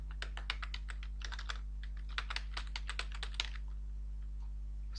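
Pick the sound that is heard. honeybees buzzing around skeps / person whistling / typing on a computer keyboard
typing on a computer keyboard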